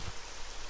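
Steady hiss of rain falling in the video game Morrowind, a brief continuous wash of broadband noise with no voices.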